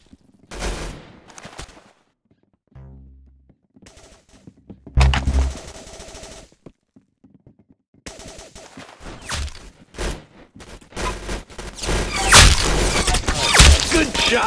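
Gunfire in a shooting video game: scattered bursts of rapid shots and single cracks, loud and close, with heavier sustained volleys building toward the end.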